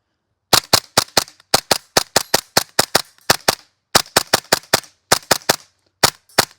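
Novritsch SSQ4 airsoft rifle fired semi-auto, a long string of sharp, crisp single shots in quick groups of three to five with brief pauses between, close and loud with no talking.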